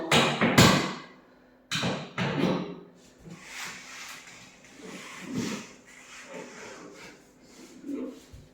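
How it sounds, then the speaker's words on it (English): A costly laser level gets knocked over indoors during curtain hanging, with two sharp clattering knocks at the start, a further thud and rattling shortly after, then softer rubbing and shuffling sounds. "I knock over my very expensive laser level."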